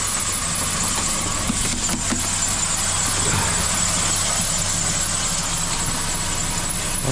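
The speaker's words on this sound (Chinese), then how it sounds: "一大早上都打不着" A car engine in a snowy, freezing outdoor setting is being cranked off a jump-start from another battery but will not catch, a steady loud mechanical whir with squealing tones running the full length without a clear start.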